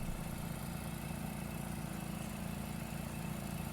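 A tractor engine idles in Farming Simulator 22, a steady, unbroken low rumble and drone that holds constant throughout without any voices.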